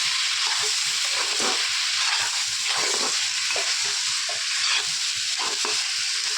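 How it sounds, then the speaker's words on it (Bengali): Vegetables for veg chowmein stir-fry in a hot pan, a loud, continuous close sizzle with rhythmic stirring scrapes throughout. "এইবারে এটা দিয়ে ভালো করে এটা ভেজে নিচ্ছি।"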